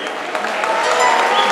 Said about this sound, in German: einmal noch ein großer Applaus für den Mann mit 1000 Tasten